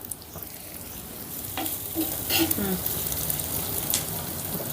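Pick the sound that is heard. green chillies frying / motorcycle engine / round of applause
green chillies frying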